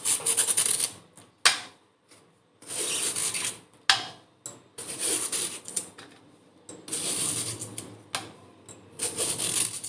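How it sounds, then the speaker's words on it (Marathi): Cucumber skin is peeled in repeated raspy strokes, each a dry scraping burst with short pauses between them, close and fairly loud, with no voices. "सगळ्यात आधी आपल्याला काकडीची साल काढून घ्यायची आहे."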